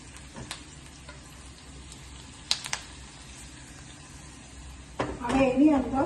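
Onions sautéing in oil in a pan for a sprouts curry, a soft steady sizzle with a few sharp clicks of a utensil, then louder stirring and scraping near the end.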